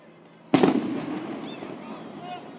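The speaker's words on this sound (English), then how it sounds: "They're fireworks and flashbangs." A single sharp firework or flashbang bang fired at a protest crowd in a city park, a sudden loud blast followed by a lingering echo and crowd noise with faint whistles.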